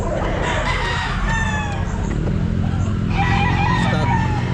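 A stag rooster, a Golden Boy with a straight comb, crows at a busy pet market, its drawn-out call rising twice amid clucking fowl and steady crowd noise.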